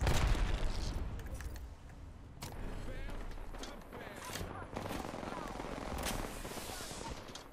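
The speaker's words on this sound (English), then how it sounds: "They're just spamming grenades." Rapid grenade explosions crack and boom in a shooter video game, several blasts arriving in quick succession amid gunfire, fairly close and punchy, with bursts spaced a second or two apart.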